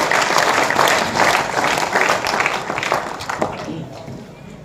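An audience at a Hindi poetry gathering in Daltonganj claps in steady, loud applause for several seconds, tapering off toward the end, with some voices mixed in.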